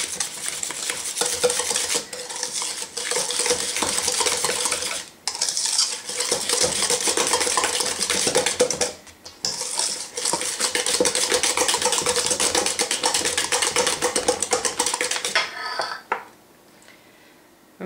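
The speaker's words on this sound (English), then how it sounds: "I'm just going to add my egg a little at a time and beat that together" Egg being beaten into banana bread batter in a bowl, a continuous rapid whisking and scraping clatter with brief pauses, stopping near the end.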